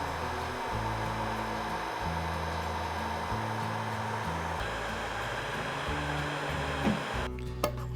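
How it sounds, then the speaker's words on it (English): Hot air gun blowing on rusty wheel rims to dry them, a loud, steady close-up roar of rushing air that holds throughout, with a low hum shifting in pitch as it moves and a brief clatter near the end. "so I'm going to use compressed air and a hot air gun"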